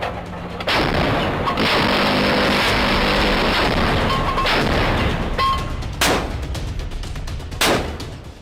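A US Navy railgun firing, a loud sustained roaring blast followed by a couple of sharp cracking reports and clangs, close and dominant with no talk.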